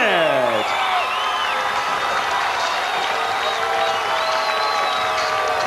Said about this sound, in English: Much to the delight of the crowd.